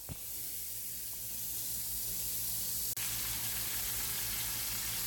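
Cube steak frying in a pan, a steady close sizzling hiss that continues evenly throughout, with a single sharp pop near the end and no talking.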